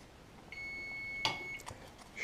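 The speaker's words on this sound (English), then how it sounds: "waiting again for the timer to go off" A kitchen timer beeps near a stove where grape jam is boiling, one sustained electronic tone followed by clatter and small kitchen knocks.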